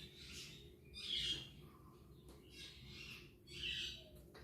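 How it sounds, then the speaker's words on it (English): Pet birds squawking in the next room, muffled and distant, in three or four short bursts with quiet gaps between them, over a low steady background hum. "the other ones are squawking in the next room, but that's fine"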